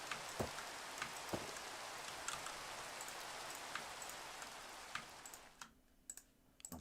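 Rain in the video game Minecraft (Sky Factory 4) hisses steadily with scattered droplet taps and clicks, then thins out near the end as a few sharp clicks stand alone.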